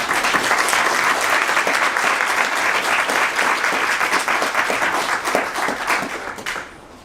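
An audience at a talk on Dallas Freedman's Towns breaks into sustained applause to welcome a speaker, a dense, even wash of many hands clapping that fades out at the close.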